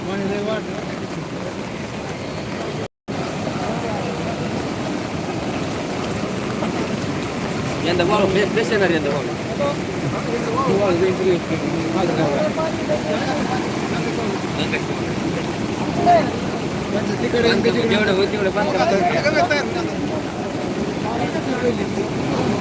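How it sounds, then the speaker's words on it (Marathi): Floodwater of the Sindfana river pouring over a bridge after heavy rain, a loud continuous broadband roar filling the whole stretch, with faint voices beneath. "त्या पुलावरून पाणी पडताना या ठिकाणी पाहायला मिळतं आहे पाण्याचा प्रचंड वेग आहे"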